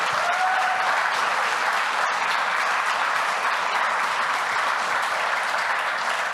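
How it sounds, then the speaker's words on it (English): A roomful of people at an evening demo day for a female founders program gives loud, sustained applause, thick and even throughout with no talk over it. "give a big round of applause to everyone in the room here tonight"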